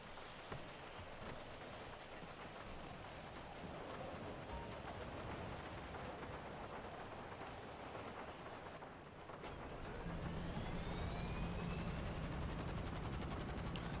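Steady rain in the game GTA Online, a constant hiss of falling drops that grows slightly heavier and fuller near the end, with a low rumble underneath and no voices.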